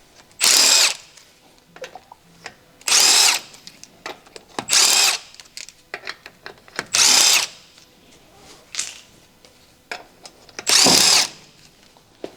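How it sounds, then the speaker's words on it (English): A large electric impact wrench with a 17mm deep socket takes the wheel lug nuts off an 8th-generation Honda Civic, sounding as five loud, close buzzing bursts about two seconds apart, with faint clinks and handling noises between them. "Use a large 17mm deep socket paired with a large electric impact wrench."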